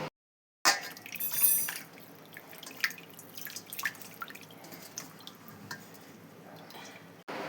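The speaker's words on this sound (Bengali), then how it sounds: "তো চলো মাছগুলো আমি ধুয়ে নিই।" Prawns being rinsed under running tap water in a kitchen sink for an echor chingri dish, a near splashing stream with scattered drips and clinks, loudest early on, continuing alone without talk.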